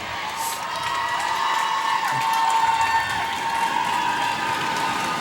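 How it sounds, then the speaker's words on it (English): Crowd at a high school volleyball match between Custer and Douglas Patriots in a gym, a steady, dense wash of cheering and shouting with some applause, continuous and fairly loud throughout. "And the crowd comes alive."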